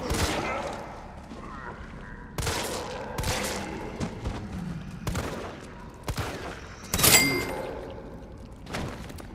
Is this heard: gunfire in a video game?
yes